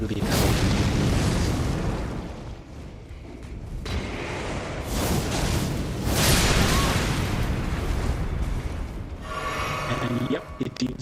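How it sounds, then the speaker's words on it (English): A triggered explosion in the video game Elden Ring sets off a loud, sustained roaring burst with rumbling booms that fill the scene for several seconds, ending in a crackling tail. "I can trigger the explosion"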